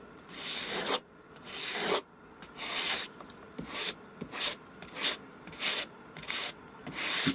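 Balsa wood parts of a Genteel Lady RC glider are sanded by hand in close, steady rasping strokes, about eight bursts separated by short pauses, with no talking.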